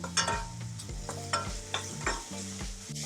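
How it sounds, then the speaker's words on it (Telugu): Spices for chole frying and being stirred in a hot pan, a steady sizzle with repeated rhythmic scrapes of the spoon against the pan, close and loud with no voices. "దీన్ని కూడా కాసేపు వేయించుకుందాం"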